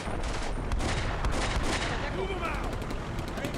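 Tanks fire shells in Combat Mission: Beyond Overlord during the La Fiere battle: loud, repeated booming gunfire in a dense barrage, with sharp cracks and rumbling echoes throughout.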